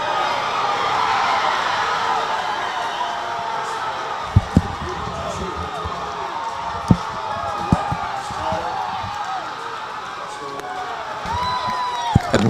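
Distant crowd noise from spectators at a neighbouring field during a Dixie Youth Baseball Division II World Series game between Alabama and Florida teams: a steady, mid-level murmur of voices with occasional cheering and a few sharp knocks scattered throughout.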